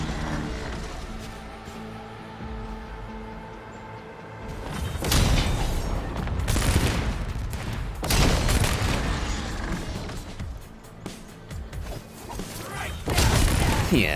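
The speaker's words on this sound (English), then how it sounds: "let's see if my turrets do the trick." Turrets firing during combat in the video game Arknights Endfield, with dense bursts of booming, crashing gunfire that come in loud waves after a quieter opening, and no talking.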